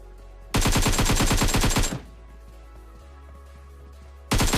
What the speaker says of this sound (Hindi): और अब सामने की तरफ से यार फायरिंग चली थी